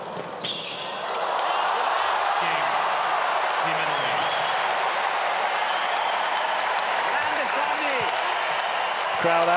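Tennis spectators at a United Cup match in 2024, Sonego against Zverev, applaud: a sustained, dense wash of clapping that swells after a moment and holds steady, with a commentator's voice running over it.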